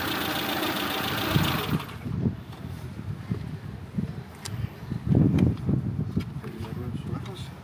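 A car engine idles with a rough, low rumble before being switched off, fading into quieter cabin sounds with thumps and muffled movement, while people talk nearby.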